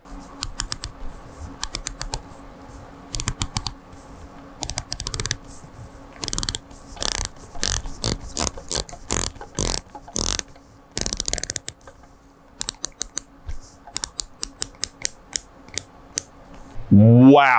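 A 2021 Omega Seamaster 300's aluminum dive bezel turned in one direction, giving crisp, close ratcheting clicks in quick bursts and runs separated by brief pauses, with no talking.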